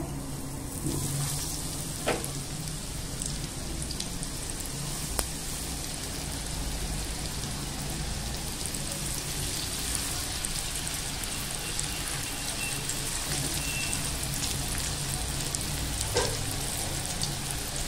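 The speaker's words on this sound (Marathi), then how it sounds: "आता तेल छान गरम झालेलं आहे। आता आपण मासे टाकूया।" Halwa fish frying in hot oil in a pan, a steady crackling sizzle that carries on evenly throughout, with a few faint clicks and no talking.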